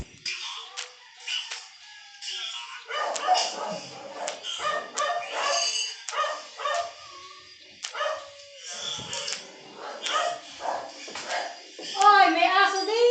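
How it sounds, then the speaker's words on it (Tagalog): A dog barks and yips repeatedly in short, uneven bursts amid people and children talking nearby, with some whimpering mixed in. "Oy, may aso din yan."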